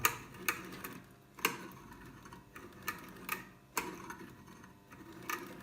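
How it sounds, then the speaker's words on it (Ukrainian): Crackling from a variac (LATR) in a triac voltage stabilizer during switching: sharp, irregular crunchy clicks and brief bursts repeat roughly every second over a low, steady hum. "Хруст це латра"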